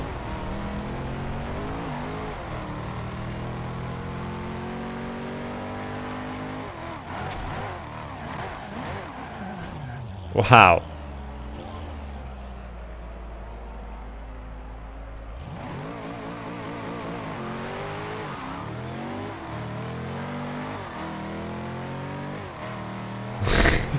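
A hypercar engine in the racing game Forza Horizon 2 drones and climbs through gears, its tone stepping up and dropping repeatedly, with a sharp burst near the middle and a short spoken exclamation.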